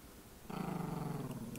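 Dog in the horror film Other Lily growling, a low, rumbling, steady growl that begins abruptly after a moment of hum and holds loud and close.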